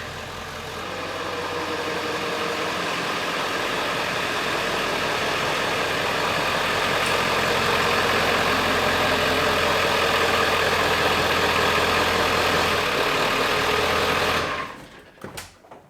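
A Ford 7.3 Powerstroke diesel truck engine idles steadily and loudly for about fourteen seconds with a dense, continuous rumble, then cuts off abruptly near the end.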